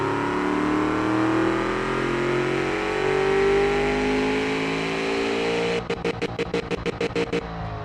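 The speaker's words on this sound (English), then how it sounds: "I think we may be revving a little too high." Simulated car engine in the game Automation revs steadily at high pitch with shifting harmonics, then cuts into a rapid series of stuttering bursts like a rev limiter bouncing near the end.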